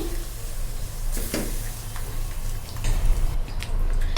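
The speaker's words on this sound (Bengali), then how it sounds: "মশলাটা কষিয়ে নিচ্ছি" Spice paste with coriander powder and salt sautéed in a pan for pabda fish curry, a close steady sizzle broken by scraping stirs and light clinks.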